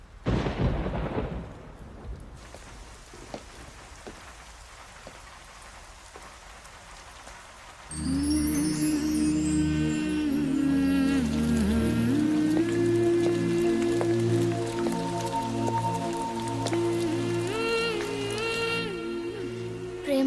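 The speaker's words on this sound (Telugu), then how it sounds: "వర్షం పడుతోంది" Steady rain hisses for several seconds after a rumbling start, then loud music begins and plays over it to the end.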